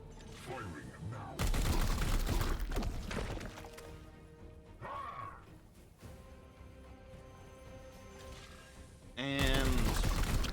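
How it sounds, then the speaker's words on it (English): Gunfire in Warhammer 40,000: Chaos Gate - Daemonhunters comes as loud bursts of heavy shots and impacts, broken by a quieter stretch, close and punchy. "Firing now."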